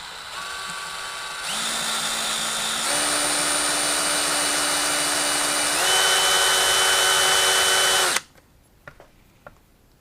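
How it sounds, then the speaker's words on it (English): A power drill bores out a broken exhaust bolt on a 1976 Honda Elsinore MR175 motorcycle. It gives a loud, close, continuous whine that steps up in pitch a few times over about eight seconds, then stops abruptly, leaving a few faint clicks. "We're just gonna go ahead and use a drill."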